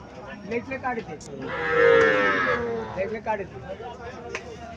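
A calf's single drawn-out moo rises and falls in the middle, close and clear, at a cattle market, with a person talking around it before and after.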